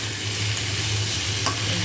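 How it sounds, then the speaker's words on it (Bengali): Bitter gourd and pumpkin fry in a pan with a loud, continuous sizzle, stirred briefly in a home kitchen. "এদিকে রান্না করতে উচ্ছে কুমড়ো বসে"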